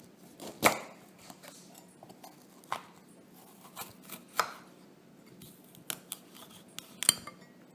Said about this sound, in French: Donc pour le poivron, on coupe au milieu